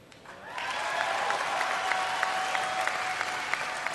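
A large audience at a BlizzCon Diablo III question-and-answer session breaks into sustained applause, a dense wash of clapping that swells quickly and holds steady, with a few scattered cheers.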